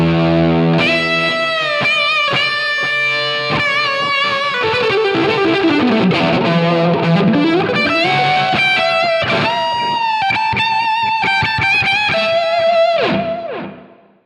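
Electric guitar through a Line 6 POD Go/Helix modeler, bright and brittle in the highs, a loud lead phrase with sliding notes and sustained bends that fades out at the end, no talking.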